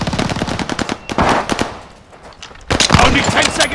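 Rapid bursts of MG82 machine gun fire in the video game Call of Duty: Vanguard, two loud close volleys of fast rhythmic shots separated by a brief lull, with a player talking over them.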